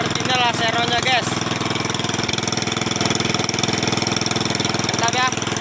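A loud boat engine chugs steadily up close with a fast, even pulsing beat, and a voice talks over it at moments.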